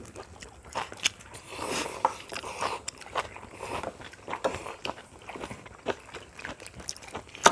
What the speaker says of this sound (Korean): 다리를 뜯어볼까?